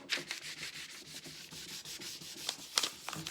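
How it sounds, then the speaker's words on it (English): A sunflower vinyl decal is burnished onto a sign with repeated rubbing strokes, a close, rhythmic scratchy swishing that comes in quick bursts with no talking. "Rub that down really well."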